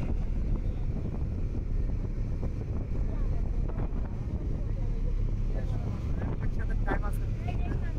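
The passenger launch ferry M Khan 7 runs at full speed on a river, its engine a steady low rumble mixed with rushing wind and water noise, while a voice talks over it.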